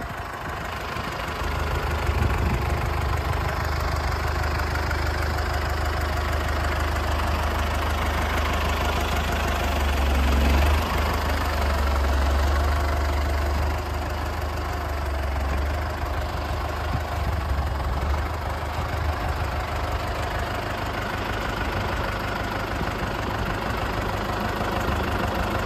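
A tractor engine idles steadily and loudly with a low, knocking rumble that holds for the whole stretch, with no voices over it.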